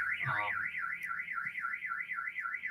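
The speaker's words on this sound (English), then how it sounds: "somebody's alarm's going off" A car alarm wails alone in a steady rising-and-falling siren, loud and continuous with a brief lower burst near the start, somewhere near a Hawaiian homestay.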